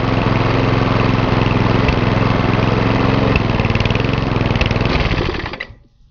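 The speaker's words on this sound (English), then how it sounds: "So just have to see if the engine actually stops now." A Briggs & Stratton lawnmower engine runs close and loud with a steady, even chug, then winds down and cuts out just before the end.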